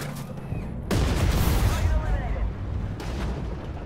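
Tank battle in a video game with M1A2 tanks on a stormy winter map, heavy booming cannon blasts and rumbling explosions, one big hit near the start and another later, with a voice talking over them.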